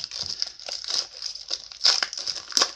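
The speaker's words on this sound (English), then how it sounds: "we'll go ahead and start ripping into these" Wax-wrapped 1994 Score baseball card packs are torn open up close, with bursts of crinkling and crackling wrapper noise in an uneven rhythm and a couple of sharper rips.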